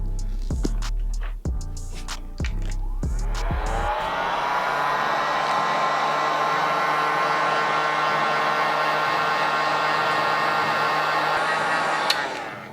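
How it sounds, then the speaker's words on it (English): A heat gun blows steadily on glue along the stitching of a 1994 Nike Air Jordan 3 sneaker, a loud continuous whooshing whine that starts after a few sharp knocks and runs unbroken to the end. "let's grab our heat gun and let's accelerate this drying process."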